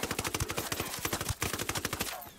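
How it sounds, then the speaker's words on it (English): Rapid rifle fire in the video game Ghost Recon Wildlands, a fast run of sharp close shots in quick succession with a brief break partway through, loud and alone. "I'm shooting him through these damn bushes"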